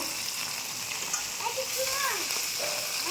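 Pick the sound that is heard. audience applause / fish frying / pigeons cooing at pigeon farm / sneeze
fish frying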